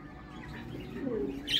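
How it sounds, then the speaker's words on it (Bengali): Australian doves kept by a bird breeder give a soft, brief call close by, faint against low background noise, with a sharper chirp near the end. "এগুলা ঘুঘু, অস্ট্রেলিয়ান।"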